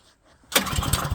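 A small engine, set to full choke and full throttle, is pull-started. After a quiet moment it bursts into loud, rough running with uneven pulsing for the final half second.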